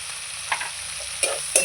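Chicken pieces with turmeric and salt frying in a pan, a close, bright sizzle with a few quick stirring scrapes and clinks toward the end, no talking.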